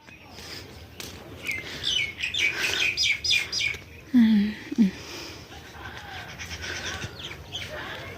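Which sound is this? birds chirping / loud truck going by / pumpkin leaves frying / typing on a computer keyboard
birds chirping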